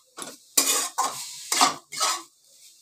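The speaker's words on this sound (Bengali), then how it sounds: "দেখো গাজরটা আমি ভালো করে নেড়ে নিচ্ছি।" A utensil stirs grated carrot in a pan in five distinct scraping strokes. Each is a bright, close rasp against the metal, and short silent gaps fall between them.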